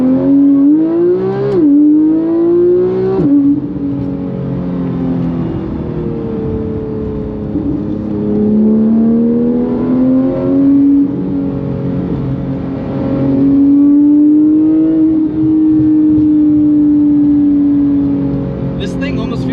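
A Porsche GT3 track car accelerates and revs hard up through the gears, its loud, close engine note rising and dropping with each shift, while people talk over it.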